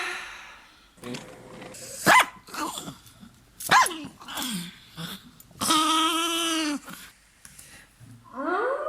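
A small dog growls and barks in short, sharp bursts, with one longer snarling growl, close and fairly loud, with brief voices between.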